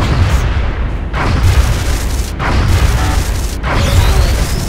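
Heavy booms and bursts of aircraft weapons fire as an interceptor shoots down a UFO in the XCOM video game, loud continuous explosions with several sharp hits, no talk.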